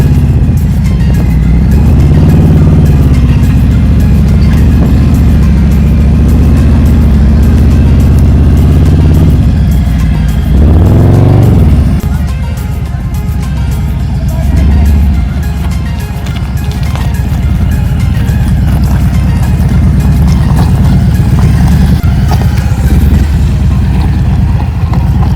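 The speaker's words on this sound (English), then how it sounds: "now we are driving towards another" Motorbikes on a morning ride from Bangalore to Mandaragiri hill, a loud continuous engine drone and road rumble carrying steadily throughout, close and unbroken, with no talk.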